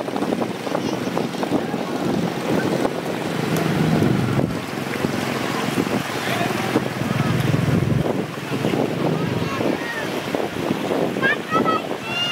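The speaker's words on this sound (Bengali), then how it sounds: "এই হলো পার্কি বিচের সমুদ্রের ঢেউগুলি, ছোট ছোট ঢেউ।" Small sea waves washing in at Parki Beach, Chittagong, a steady wash of surf mixed with strong wind buffeting the microphone throughout, with faint voices in the background.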